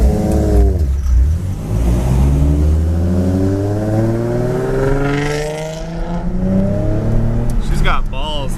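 Sports car engine, a Ferrari 430 or Corvette C8, revving near a police officer: a loud, sustained engine note rising and falling through several sweeps, close by, with excited voices talking over it.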